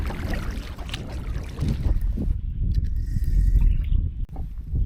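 Canoe being paddled down a lake in Quetico Provincial Park, with steady water swishing and sloshing close by, wind buffeting the microphone, and a few hollow knocks against the hull.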